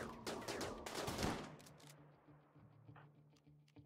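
Game gunfire from colonists shooting in RimWorld: a rapid burst of shots in the first couple of seconds, then scattered fainter reports trailing off under a low steady hum.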